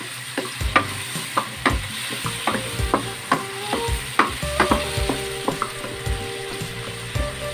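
Squash sautéing in a pan, with a steady sizzle and repeated scraping clicks of a utensil stirring the pieces at close range throughout.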